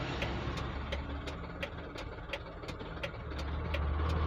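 A Mitsubishi Canter Super heavy-loaded truck engine runs with a steady low hum from inside the cab, overlaid by a faint, evenly spaced ticking at about three beats per second.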